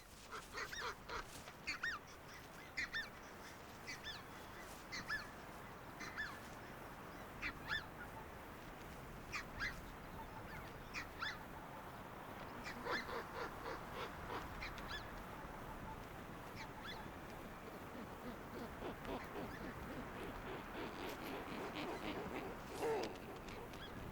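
Geese honking repeatedly at middle distance, harsh calls scattered irregularly over a continuous outdoor rush of wind or water.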